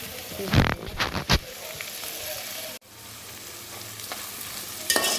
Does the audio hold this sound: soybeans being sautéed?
yes